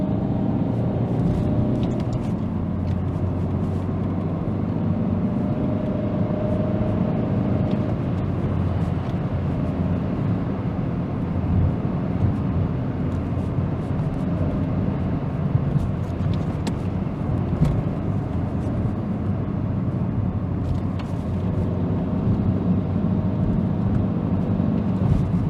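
Steady low engine drone and road rumble inside a Volvo V40 1.6 D2 diesel hatchback on the move, a constant, moderately loud cabin hum with faint tyre and wind noise and no talking.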